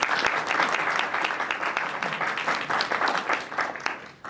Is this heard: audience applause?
yes